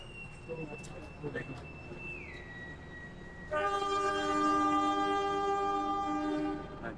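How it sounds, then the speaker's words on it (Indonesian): A train horn blares loudly partway through, a sustained multi-tone chord over the rumble of Kiaracondong station in Bandung, with faint voices and railway noise before it. "Di sebelah ada kereta Puripan."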